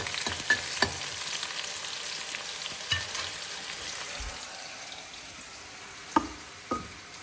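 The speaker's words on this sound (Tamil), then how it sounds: "நல்லா வதக்கி விட்டுருணும். வெங்காயம் மட்டும் நல்லா வதங்கணுங்க." Onions sautéing in a pan with a steady soft sizzle, broken by occasional scrapes and clinks of a spoon stirring them, close by in a home kitchen with no talking.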